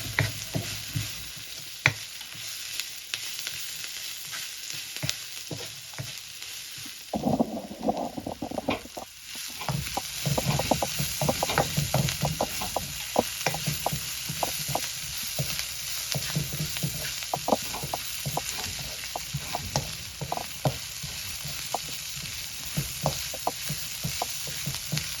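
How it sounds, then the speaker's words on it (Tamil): Onions sauté with salt in a pan for a South Indian calamari dish, a continuous sizzling crackle with bursts of stirring and scraping, heard alone without talk. "உப்புத்தூள் போட்டு வதக்க அது அப்படி இன்னும் நல்லா சிவக்கணும்."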